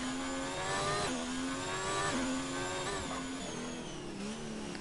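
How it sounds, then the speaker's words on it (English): Formula-style race car in a racing video game lapping the Monaco circuit, its high-pitched engine screaming up through the revs and dropping on several quick shifts, heard alone and fairly faint. "The engine sound is really high."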